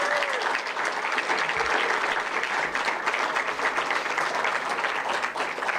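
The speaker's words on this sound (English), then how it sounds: "Would you give a round of applause for our athletic staff and the work that they do?" Sustained applause from an audience at a men's basketball coach's introductory press conference, steady dense clapping filling the room throughout with a faint voice underneath.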